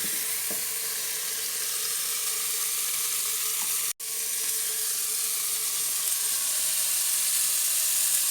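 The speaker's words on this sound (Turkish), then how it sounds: "Mantarlarımızı, kıymalı taraflarını, köfteli taraflarını ters çevirdik. İyice soteledik." Mushrooms and meatballs sauté in an Arçelik Gurme Şef pot, giving a steady, close sizzle and hiss of frying with a brief cut midway and no voices.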